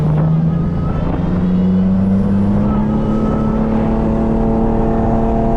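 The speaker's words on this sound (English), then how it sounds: "Hear that Hellcat, bro?" A deep, rumbling Dodge Hellcat Widebody engine idles and slowly climbs in pitch, loud and close, a steady heavy growl with no talking.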